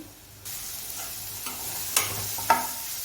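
Masala frying in oil in a pan for Rajasthani dal bati, a soft continuous sizzle broken by a few stirring scrapes of the spoon.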